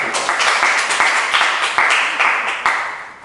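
An audience claps in a brief burst of applause, with sharp, uneven clapping from many hands, close and fairly loud.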